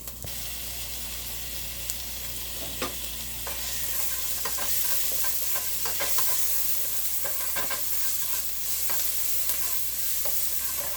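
Garlic sizzles steadily in a hot pan for a Filipino pancit bihon, a spatula stirring it and adding scrapes and clicks over a continuous frying hiss, close and moderately loud.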